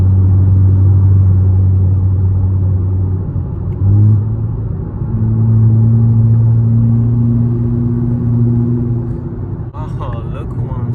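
Nissan Z with upgraded turbos and a loud exhaust drives along with a deep, steady engine rumble and droning exhaust tones that shift in pitch. Someone talks over it.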